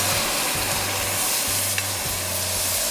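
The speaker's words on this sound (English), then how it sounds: "I'm gonna add some fire roasted tomatoes." Fire roasted tomatoes go into a hot chili pot with a steady wet sizzle and frying crackle, a few stirring scrapes on top, close and loud, no voices.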